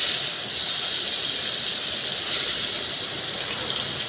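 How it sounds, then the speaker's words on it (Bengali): Fish pieces rubbed with salt and turmeric frying in oil in a wok make a constant loud, close hiss and sizzle with a slight squealing edge, steady from start to finish. "মাছগুলো কড়াইতে একে একে ছেড়ে দেব"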